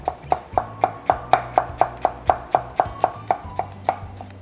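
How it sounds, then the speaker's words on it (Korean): An onion being finely julienned with a knife on a cutting board, slice by slice for French onion soup: a steady, even series of about sixteen crisp close knife taps on the board. "이렇게 양파 썰어서 준비하시고요"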